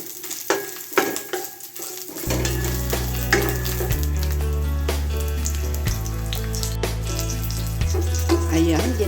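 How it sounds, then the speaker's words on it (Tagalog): Onion sautés in a pan with a little melted fat, cooking for ginisang upo: a steady, loud sizzle with stirring noises and a few clinks, carried over a background of music. "ginisa ko na ang sibuyas"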